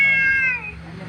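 A cat gives one short, close meow that slides downward in pitch and fades quickly.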